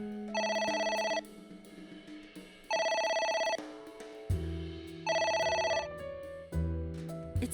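An electronic phone ringtone in the game AI: The Somnium Files chimes in repeated bursts, ringing on and off several times with a lower tune between rings.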